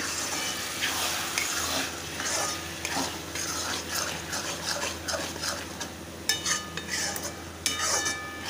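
Homemade onion-garlic chili masala roasting in a pan for Kolhapuri misal, a steady close sizzle broken by soft stirring scrapes and a few light clinks of a spoon, no voices.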